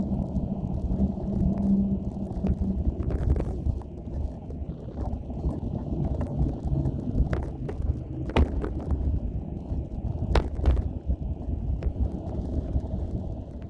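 Steady, buffeting wind with gusts over 50 km/h roars across the microphone for the whole stretch, with occasional sharper gusts and thumps and no voices.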